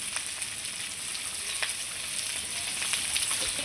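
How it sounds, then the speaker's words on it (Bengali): Red amaranth stalks fry in a pan with salt and turmeric, making a continuous close, fairly quiet sizzle with faint crackles, without any voices. "লবণ হলুদ দিয়ে ডাঁটাটাকে আবারও আমি খুব সুন্দর করে ভেজে নেব"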